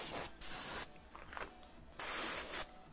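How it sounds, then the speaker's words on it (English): An airbrush sprays neon green paint across a Converse shoe in steady, close hissing bursts, one long spray, a softer stretch, then another strong burst, with no voices. "I'm adding more green, and then I'm spraying it across."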